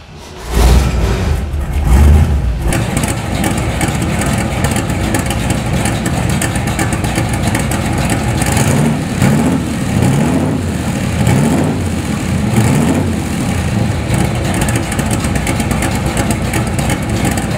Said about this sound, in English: With that big motor wailing out the side pipes and rolling on down the road